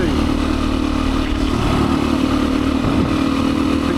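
Beta 500 dirt bike engine roaring loud and close on a woodland trail loop, a steady throbbing drone with slight surges in throttle and no pauses.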